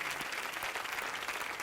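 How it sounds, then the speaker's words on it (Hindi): Audience applause at a live Bhojpuri poetry show, a steady dense wash of clapping from a crowd that holds at an even level throughout with no voices over it. "बजाओ ताली।"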